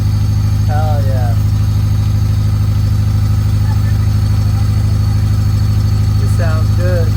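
A Honda Civic race car with a D16Z6 engine and no exhaust idles loud and steady in a constant drone throughout, as a voice speaks briefly near the start and again near the end.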